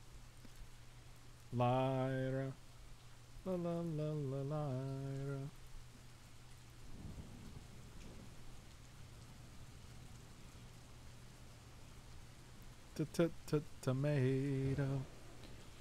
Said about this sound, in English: This is literally a website called rainymood.com that you can open and add background rain to your life.